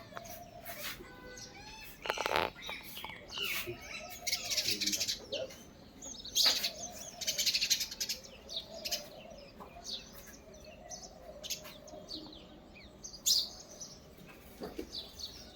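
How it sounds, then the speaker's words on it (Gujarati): Parrots, sparrows and doves calling around a home in the early morning after sudden rain, scattered chirps and tweets near and far, with bursts of wing flapping and occasional soft cooing. "આ બાજુ પોપટ આવી ગયા"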